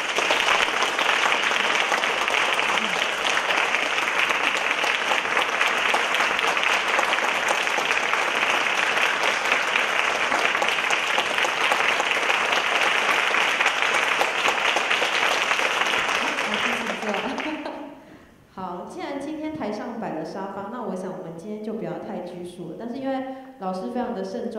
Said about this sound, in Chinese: 那接下来邀请大家一个热烈的掌声